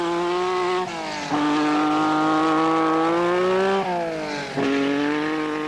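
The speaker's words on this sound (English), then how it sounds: "Lancia Stratos away." A Lancia Stratos rally car at the 1979 RAC Rally pulls away, its loud engine note rising through the gears in three strong revving pulls with brief dips at each shift, close by and alone.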